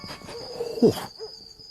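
An owl hoots in the Mr. Bean video game, a short tonal call that rises to a loud peak and fades, then a fainter second hoot follows over a steady high electronic hum.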